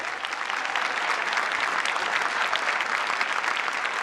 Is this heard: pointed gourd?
no